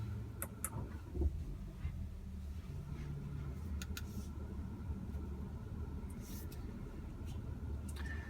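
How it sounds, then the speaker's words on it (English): A 2018 Audi Q5 with a 2.0-liter turbo engine, 252 horsepower and a seven-speed dual-clutch gearbox drives along, giving a faint, steady, low road rumble with a few light clicks. "let's take the new Audi Q5 for a spin"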